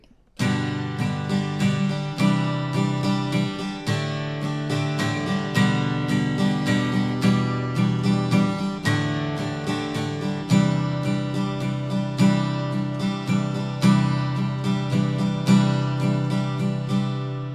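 Strummed acoustic guitar chords ring out steadily in a repeating rhythmic pattern, full and close, with no voices over them.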